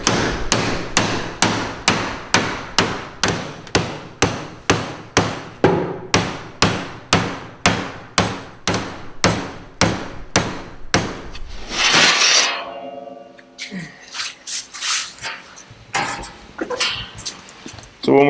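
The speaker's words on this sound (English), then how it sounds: "we're going to hit it with a rubber mallet so that it won't ding up the material" A rubber mallet strikes sheet metal bent over a table edge in a steady run of about twenty evenly spaced blows. The hits are close and loud, then stop, and some quieter handling noise follows.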